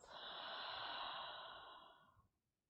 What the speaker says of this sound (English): Soft breath out.